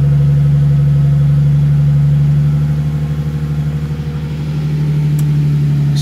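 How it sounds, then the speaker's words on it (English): A turbocharged BMW E46 engine idling a little high on a cold start, a steady loud low hum with a rhythmic pulsing burble and a slight dip in level midway, heard close with no talk. "See, it's idling a little high."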